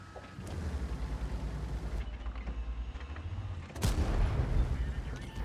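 Tank cannon fire in a tank video game, a heavy booming shot cutting through steady engine and battle rumble, with a second loud blast near the end.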